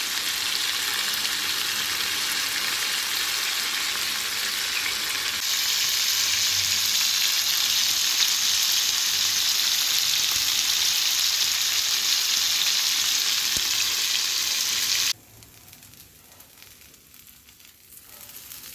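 Green chicken tikka fries in a pan with a loud, steady, close sizzle, which swells briefly when the pieces are turned, then drops abruptly to a much quieter background near the end.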